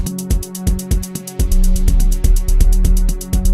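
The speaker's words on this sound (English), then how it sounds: "I have my 808 hi-hats over here" 808 hi-hats in FL Studio tick in a fast, even rhythm over a deep, booming bass beat, loud and up front.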